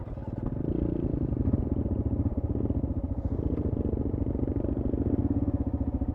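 An off-road adventure motorcycle working slowly along a rut on a dirt track, its engine thumping in a steady, close low-pitched putter that continues without a break.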